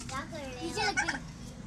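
Chickens and turkeys squabble as they bully a lone new hen, giving brief, fairly faint gobbling and squawking calls over a low background, with a human voice nearby.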